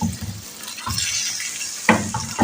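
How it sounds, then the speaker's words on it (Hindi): A little water is poured into a pan of potato and pea curry, giving a steady, close splashing and sizzling wash with a few sharper clinks and stirs near the end. "तो थोड़ा सा पानी, बस ये इतना सा"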